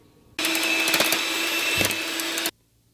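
Butter is beaten for vanilla biscuit dough, a loud, steady mechanical whir that starts abruptly, runs about two seconds, then cuts off sharply into near silence.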